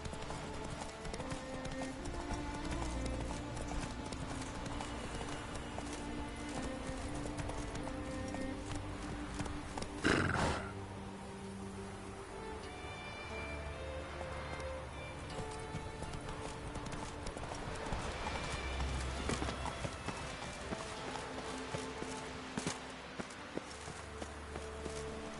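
Hooves of a horse in The Witcher 3 clip-clop steadily at a running pace, loud and close, with a brief louder impact partway through and faint game ambience underneath, no talk.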